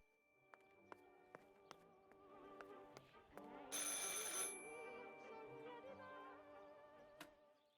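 An old-style telephone rings in the video game Martha is Dead, a string of spaced, bright rings repeating at a steady pace, then a burst of noisy static in the middle before the rings carry on faintly.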